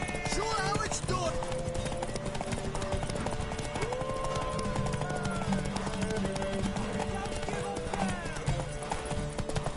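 Horse galloping in The Witcher 3 game, quick rhythmic hoofbeats under a musical score, with neighing and character voices talking over the riding throughout.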